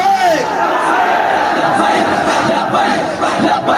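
A large crowd at a religious gathering in Wazirabad chants the slogan Labbaik Ya Rasool Allah in unison, a loud, dense wall of massed voices that stays continuous and near from start to finish.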